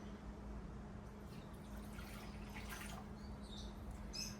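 Warm water pours into a bowl of mixed sourdough bread dough ingredients, a faint, soft trickle that grows slightly toward the end over a low steady hum, with no voices.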